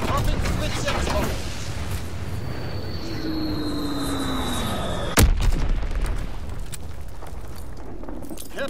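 Blitz X bomb strike in Call of Duty: WWII: an aircraft whine sweeping down in pitch, then a sudden loud, close explosion with a rumbling tail, over ongoing gunfire and battle noise.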